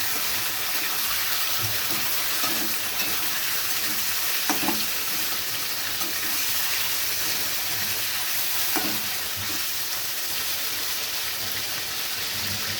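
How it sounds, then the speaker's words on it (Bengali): Turmeric-coated boneless chicken fries in a pan with a steady, close, even sizzle throughout, and a few faint utensil clicks. "যতক্ষণে চিকেনটা ভাজা হচ্ছে"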